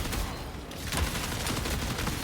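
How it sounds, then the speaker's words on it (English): A big shotgun fires in the video game Marathon, with dense, loud gunfire bursts that overlap steadily amid a busy battle. "Well, that's a big shotgun."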